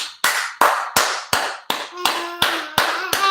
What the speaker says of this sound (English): clap it up for DC